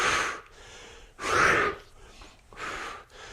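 Heavy breaths pushed out during a core warm-up exercise, three strong exhales spaced roughly a second apart, close and fairly loud with no talk over them.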